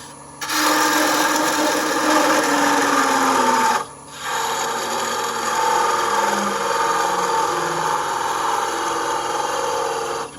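Steady wooden scraping and hissing of a chisel cutting a draw knife handle spinning on a woodturning lathe, loud and continuous with a brief pause near the four-second mark before resuming.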